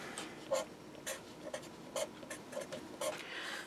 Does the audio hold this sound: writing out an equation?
yes